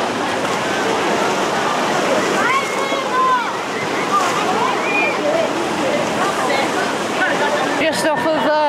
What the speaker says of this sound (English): although the splashes are really big.